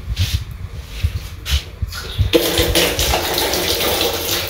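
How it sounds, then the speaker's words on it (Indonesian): A washroom tap at a new family campsite in Cisarua, Bogor, runs with water, a close, steady splashing flow that grows louder partway through, heard without talk. "Ini ada keran untuk wudhu, untuk cuci piring."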